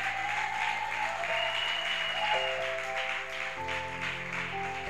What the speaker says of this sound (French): je veux que tu acclames puissamment le Seigneur.